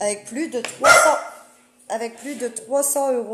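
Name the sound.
dog barking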